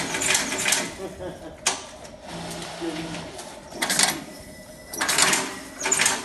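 An automatic snap button press machine runs in a workshop, giving repeated mechanical clattering bursts in an uneven rhythm, close and fairly loud, with people talking over it.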